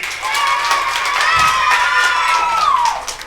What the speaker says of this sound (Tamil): ஒரு கைதட்டு கொடுங்க என் தம்பி